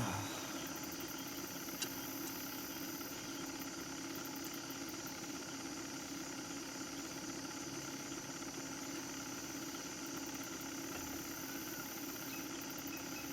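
A boat engine idles steadily in the swamp of the video game Norco, a constant mid-pitched droning hum that holds unbroken and fairly quiet throughout.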